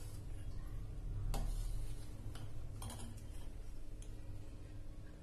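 A spoon stirs milk with lemon juice in a pot to make homemade paneer, giving soft, steady scraping with a few faint metallic clinks against a low background hum.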